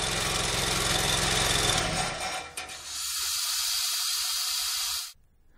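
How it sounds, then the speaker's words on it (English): Compressed air being bled off a GRUNDOMAT trenchless piercing tool after the compressor is shut off: a loud, steady broadband hiss, heavier and rumbling at first, then thinning out before cutting off abruptly near the end. "turn off the compressor and bleed off the air pressure."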